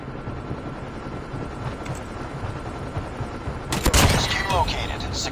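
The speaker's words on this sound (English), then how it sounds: "Stealth chopper inbound." A stealth chopper attack in Call of Duty Mobile: dense game noise and a rumbling hum swell into a burst of loud crackling fire near the end, with game voices in the mix.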